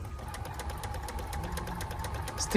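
A Bernina 1230 sewing machine runs a zigzag stitch after motor repair, giving a steady, fairly quiet mechanical whir with a fast even ticking rhythm throughout, and a brief louder knock at the very end.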